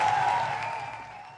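Applause for a minister at a public event in Côte d'Ivoire: a broad, even wash of clapping from a crowd that slowly fades toward the end, with no talk over it.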